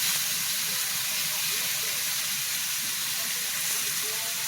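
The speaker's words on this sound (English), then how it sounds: "you can see our pan smoking a bit. There's steak in there." Steak searing in a smoking-hot pan gives a steady, close hiss and sizzle that runs continuously without breaks, fairly loud and even, with no distinct talking over it.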